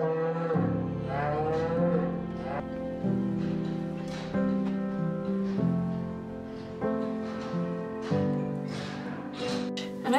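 A calf on a Swiss cattle farm moos repeatedly, a series of close, drawn-out bellowing calls that follow one after another, clear and alone with no talking.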